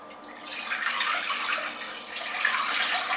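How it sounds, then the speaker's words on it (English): Four cups of stock poured into a pan for Tom Yum soup, a steady splashing, gurgling pour that runs for about three seconds close by, with no talking. "So I'm going to put the stock, 4 cups of stock, into my pan."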